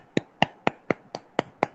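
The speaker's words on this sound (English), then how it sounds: "Clap one for you" Seven sharp hand claps ring out at an even, quick pace in a nursery class, each one crisp and close with a short decay and no talk between them.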